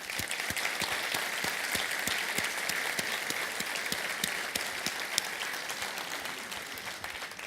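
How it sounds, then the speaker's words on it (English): An audience claps steadily throughout, a dense, even patter of many hands at moderate distance with no voices over it. "they deserve a round of applause"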